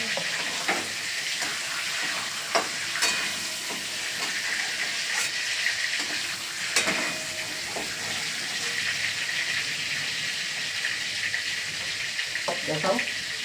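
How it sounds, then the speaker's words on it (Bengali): Two hilsa fish heads fry in oil with a continuous crackling sizzle, close and moderately loud, broken by occasional sharp clicks from stirring or utensil contact. "এই মাথা দুটো ভেজে নিলাম।"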